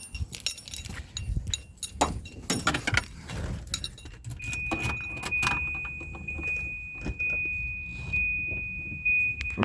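Car keys for a 1990 Volvo 740 jangle and clink in a hand in several bursts, followed by a steady high electronic beep, likely a car chime, in the second half.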